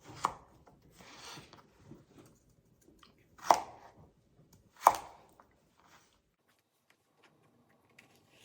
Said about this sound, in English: I want to cut the carrot into 1-inch sticks.